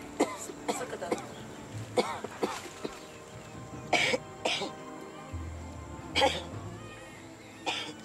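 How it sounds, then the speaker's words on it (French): Repeated coughs and throat clearing from people in a medical examination setting, several sharp bursts spread across the clip, fairly close, with voices and murmuring in the background. "Toussez."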